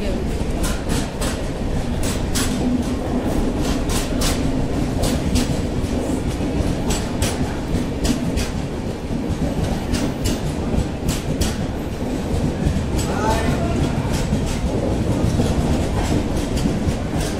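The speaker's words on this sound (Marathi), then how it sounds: "ट्रेन आली मुलांची," A passenger train pulling into Kopargaon railway station, with a loud continuous rumble and rhythmic clickety-clack of wheels over rail joints, steady throughout, with voices faintly mixed in.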